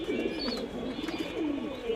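Giribaz flying pigeons coo in low, wavering phrases that run almost continuously, close and moderately loud, with no voices.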